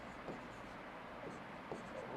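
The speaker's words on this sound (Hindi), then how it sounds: "यहाँ पे लिखते हैं" Chalk or marker writing on a board during a hydrology lecture, with faint scratchy strokes at a low level and brief soft pauses between them.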